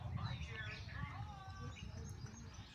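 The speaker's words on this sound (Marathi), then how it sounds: "हा एक पक्षी आहे फक्त" A bird gives faint, thin chirps near red-pink silk cotton tree flowers in the morning, the calls soft and scattered over a quiet, low background hum.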